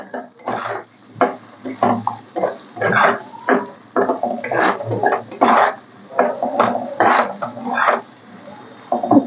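Chili powder and spices frying in a pan for a Bengali rohu fish curry, with repeated metallic scrapes and clinks of a spoon stirring against the pan, close and fairly loud in irregular bursts.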